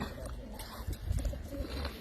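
Pigeons cooing at a race release site moments before they are set free, soft repeated coos close by with people's voices faintly in the background.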